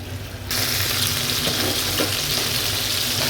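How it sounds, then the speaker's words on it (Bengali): Chicken fries in a pan for a home-style spiced dish. A loud, hissing sizzle bursts in after a short pause and holds steady and close to the end. "এটা আমি ভেজে নেব।"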